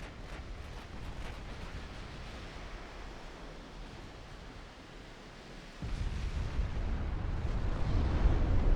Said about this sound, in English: There we go, torpedoes are arriving.